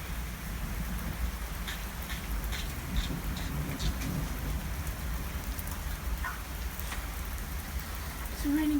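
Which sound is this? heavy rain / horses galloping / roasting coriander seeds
heavy rain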